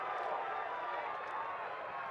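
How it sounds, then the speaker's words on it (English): A dense roar from a rowdy crowd at the 2014 MCLA lacrosse national championship semifinal between Arizona State and Chapman, a steady loud wash of voices with no break. "And this crowd, they're so rowdy."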